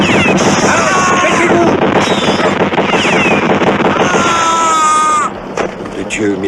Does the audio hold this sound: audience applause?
no